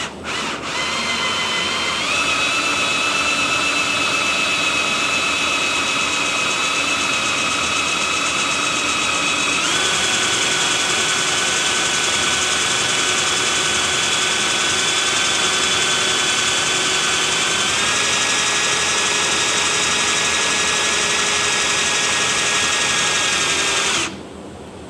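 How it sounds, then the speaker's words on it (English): A winch gearbox driven by a drill spins steadily for about 25 seconds, a loud continuous motor whine with pitch steps as the speed changes, close and alone with no talk. "Now we can spin the winch or gearbox or whatever you want to call it up and down"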